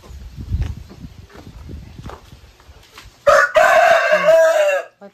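A rooster crows once, loud and close, a long drawn-out call rising over quieter rustling and footstep-like shuffling near a roadside vulcanizing shop.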